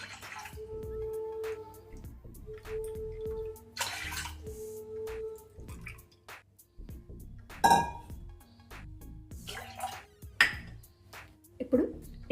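Water poured into milk in a pot for jaggery rice pudding (bellam paramannam) splashes in a few short bursts, with light clinks of utensils and quiet kitchen background.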